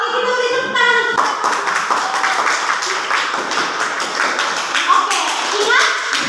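Classroom audience clapping for a group presentation, a steady patter of many hands under ongoing chatter and a child-like voice, sustained at moderate loudness throughout.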